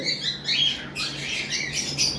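Parblue opaline budgerigars giving short, scratchy squawking chirps in quick bursts, close and fairly faint, with no talking.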